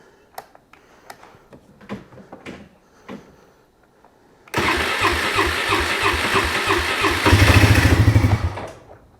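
A Polaris ATV, left with the choke pulled and in neutral after a long winter, starts after a few quiet clicks and clunks, then settles into a loud, steady idle close by that grows slightly louder near the end.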